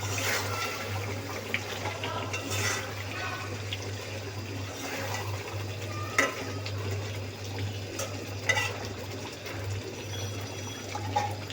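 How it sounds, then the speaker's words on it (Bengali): Chicken with potato and spices stirred in a covered cooking pot, a soft, steady sizzling and bubbling with faint scrapes of the spoon, under a low constant hum, with no talking. "এর মধ্যে ঢাকনাটা খুলে হালকা একটু নাড়াচাড়া দিয়ে দিই, না হলে নিচে লাগা যেতে পারে।"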